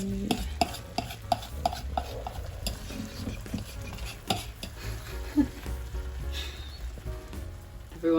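Vegetables and a paste sauteing in a pan while being stirred, with steady close sizzling broken by repeated utensil scrapes and clinks against the pan.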